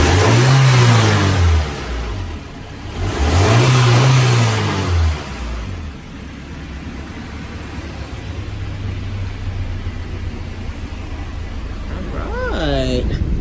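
A Honda B16A3 engine revs hard twice in quick succession after a fresh install, each rise swelling loudly and falling back, then settles into a steady idle with a brief whine near the end.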